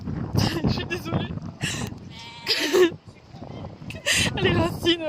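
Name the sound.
sheep bleating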